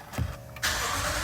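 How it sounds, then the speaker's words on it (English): A Lexus RC F started with its push button: a brief starter whir and then the engine catching abruptly into a loud, steady, full-bodied idle close by. "we're gonna go ahead and hit the push button."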